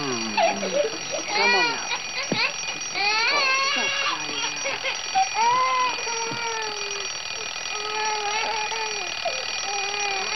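An alarm clock rings with a tinny, continuous ring through much of the span, while an adult voice speaks and a child fusses and cries over it.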